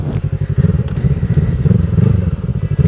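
Yamaha MT-03 motorcycle accelerating, a close, loud engine note with a throbbing low pulse that rises and surges over a few seconds, no talk.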